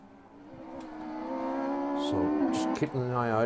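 Rally car from the West Cork Rally, crew Colin Byrne and Stephen Quinn, passing through a stage with a steady rising engine note and gear shifts, under a commentator's continuous talk.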